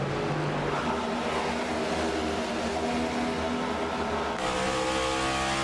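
Race car engines droning steadily at mid volume in a racing video game, a sustained revving tone with a shift in pitch near the end and no talk over it.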